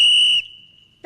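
A loud, sustained shrill whistle blown on the House floor, holding a steady piercing tone for under half a second before trailing off faintly, followed by a sudden burst of noise at the end.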